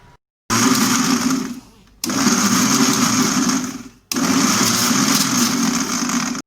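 A kitchen mixer grinder whirs loudly, pulverising soft coconut husk into cocopeat in three bursts of about one and a half to two seconds each, separated by brief pauses.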